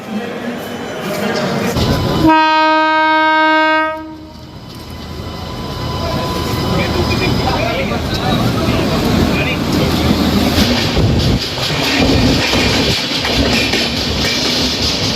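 Loud, continuous rumble and clatter of the moving 13152 Jammu Tawi Express near Ayodhya, with a steady harmonic tone like a horn or brake whine early on, dense noise throughout.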